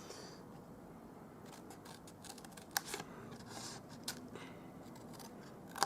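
Scissors snip and notch cardstock for a small lidded favour box, a few sharp isolated cuts against quiet room noise, with faint handling rustles between them.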